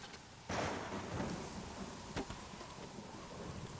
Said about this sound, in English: Can you hear all the ambient rain?